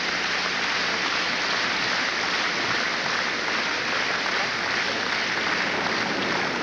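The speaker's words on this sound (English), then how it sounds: "And the other skaters applauding too" Sustained applause from skaters and an arena crowd at the 1986 Goodwill Games figure skating, a dense even clatter of clapping that holds steady and fairly loud for the whole stretch.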